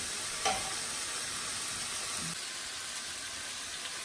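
Meat, carrots and potatoes frying in a pan for a Tunisian tagine, a soft, steady sizzle with a brief stir or clink near the start.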